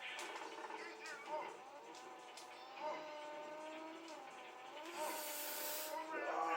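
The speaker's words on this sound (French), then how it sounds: "Ah, c'est course de bagnole." A rally car engine from the PS1 racing game Rally de Africa drones steadily throughout, its pitch rising and dipping as it revs and shifts, with the tone swelling toward the end.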